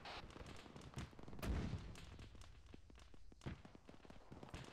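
A large gun fires in a tank combat video game, with a few sharp booming blasts and echoing rumble between them while a voice calls out loading and firing commands, all fairly faint.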